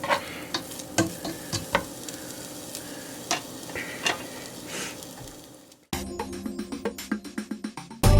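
Ground meat for lasagna frying in a pan, releasing its juices, with a steady sizzle broken by repeated scraping stirs and utensil clicks, growing louder and busier near the end.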